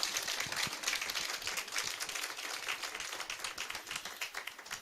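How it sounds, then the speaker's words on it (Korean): Church congregation at a Christmas Sunday service applauding to encourage children called up by name, steady dense clapping from many hands filling the room without break. "박수로 우리 격려하겠습니다"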